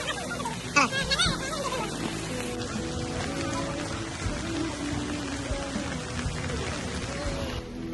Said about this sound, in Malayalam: ഇവിടെ നല്ല മഴയാണ്, 3-4 ദിവസമായിട്ട് ഇവിടെ ഭയങ്കര മഴയാണ്